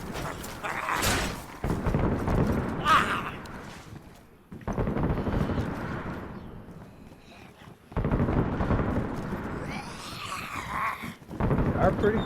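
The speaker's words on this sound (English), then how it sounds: "Weird craziness of gunshots popping off." Gunfire popping off in the survival game DayZ, loud bursts of shots and heavy thumps that come and go in blocks, fairly close by, with noisy background gaps between them.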